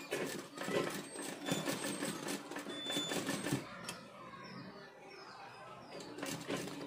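A sewing machine stitching through fabric, sewing over stones and lace trim, runs in fast rhythmic bursts for about four seconds, pauses briefly, then starts up again near the end.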